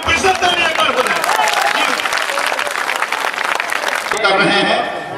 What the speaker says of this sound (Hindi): चलिए टीएम साहब के नाम पर फिर से तालियां एक बार हो जाए